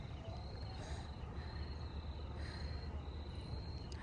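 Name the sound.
crickets chirping at night in the Sundarbans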